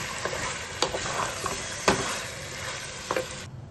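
Chicken and onions fry in a pan for chicken tehari, a dense close sizzle with a few sharp scraping stirs of a spoon, steady and loud throughout.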